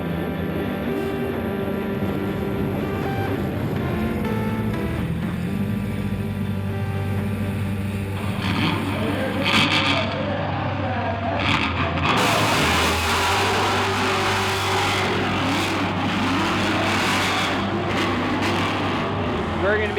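Drift cars racing into the first corner at a competition event in New Jersey, engines droning steadily and loudly, then swelling into harsher, rougher bursts of exhaust and tyre noise midway. A voice is faintly present underneath.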